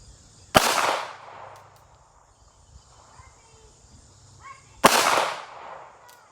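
Two sharp pistol shots from a Smith and Wesson Bodyguard .380, fired at a target 50 yards away outdoors, each a loud crack with a decaying tail, about four seconds apart over faint insect buzz.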